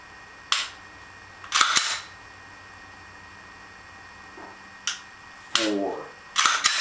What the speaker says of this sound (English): release the trigger, hear the click